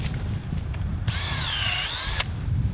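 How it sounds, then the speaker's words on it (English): A power drill whines steadily at close range for about a second, boring into a maple tree trunk to tap sap, its motor pitch shifting slightly, over a low outdoor rumble. "I'm going to drill a hole right here."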